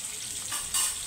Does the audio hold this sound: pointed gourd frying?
yes